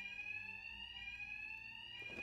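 An alarm rings continuously in the Batman Arkham Knight video game, a loud, shrill electronic tone held steadily without pause, with a short rumble of background noise near the end.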